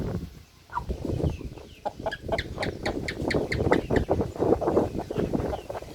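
Chickens nearly four months old cluck repeatedly in short, close bursts, several birds overlapping in a busy, continuous stream of clucks.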